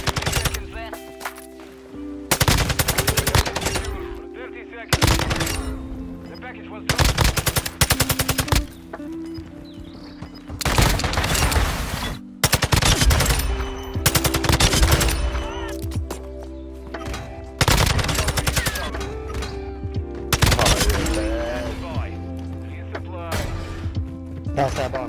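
TAQ-56 rifle fire in Call of Duty Modern Warfare 2 comes as repeated loud bursts of rapid automatic shots, separated by short gaps of game ambience, with a voice heard at times.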